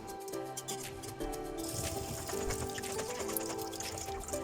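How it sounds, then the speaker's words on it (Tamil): Water is poured off a pot of freshly boiled rice, draining in a steady, continuous splashing trickle that stays at an even level throughout. "சைடில் ரைஸும் பாயில் ஆகிடுச்சு, அதையும் வடிச்சிடுறேன்"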